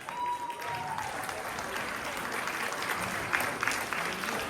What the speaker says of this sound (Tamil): கரகோஷங்களை எழுப்புங்கள்.